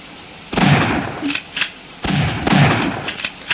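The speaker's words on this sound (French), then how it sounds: "j'entends des coups de feu" Two clusters of sharp video game gunshots crack in quick succession, loud and close, with brief echoing tails between bursts.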